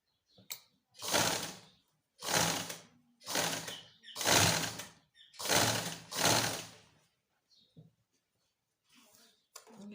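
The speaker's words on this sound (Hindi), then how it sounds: "ये आपने सिलाई देते जाना है इसको।" Sewing machine stitching fabric in six distinct whirring bursts, each about a second long with short pauses between, close and fairly quiet, followed by faint handling noises.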